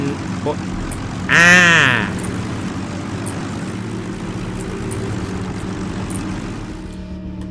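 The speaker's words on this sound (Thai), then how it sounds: "โอ้ ถ้างั้นเรามีเครื่องบิน" A propeller airplane engine in the WWII strategy game Sudden Strike 4, Africa desert campaign, drones steadily at middling volume, with a brief louder burst early on and someone speaking over it.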